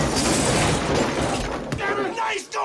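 An object is smashed in a 1968 Night of the Living Dead film scene, a dense, loud crashing shatter filling most of the moment before trailing off, with a brief sharp crack near the end.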